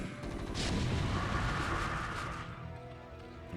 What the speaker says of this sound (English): Everybody needs to fall back and let the siege tanks handle this